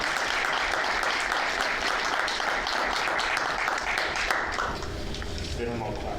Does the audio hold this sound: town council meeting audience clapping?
yes